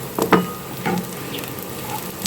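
Whole black cumin, fenugreek and cumin seeds crackle and sizzle in hot mustard oil, with a few sharp pops and spits early on over a soft, steady fry.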